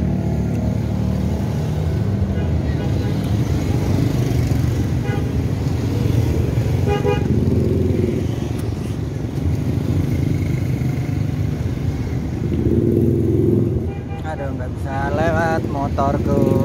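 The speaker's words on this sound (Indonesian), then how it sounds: "Sekarang waktunya ke sepeda motor guys." A busy market street: motorcycle engines rumble continuously, car horns toot, and traffic noise fills the scene. People talk now and then underneath.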